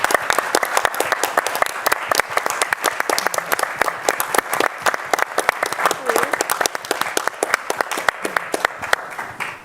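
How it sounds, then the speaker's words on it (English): Applause from an audience at a policy event on security sector assistance: many hands clapping in a lively, crackling burst that keeps going across the whole stretch, with some voices underneath. "If you can please stand so we can applaud you"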